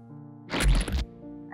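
A cartoon frog gives a short, loud croak in a children's phonics story, a single burst against a faint musical background.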